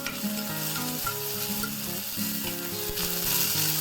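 Mustard seeds, curry seed and chopped onion fry in hot coconut oil, a steady close-up sizzle that runs unbroken for the whole stretch, with no one speaking.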